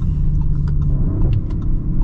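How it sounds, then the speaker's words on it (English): A loud, deep exhaust from a 2023 Audi RS5 Sportback rumbles steadily and close, with a throaty growl and small pops as the engine drops a gear. "Oh, listen to the downshift."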